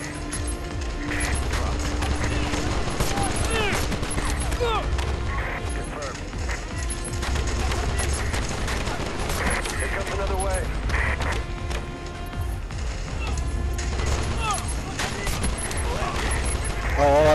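Gunfire from a sniper rifle in the Call of Duty Strike Team video game, heard amid a dense, constant mix of game battle noise, crashes and mechanical clatter, with a person talking over it.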